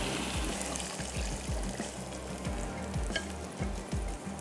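Cooked spaghetti with black pepper bubbles and sizzles in a pot, with a steady stream of low popping bubbles close by and no talking.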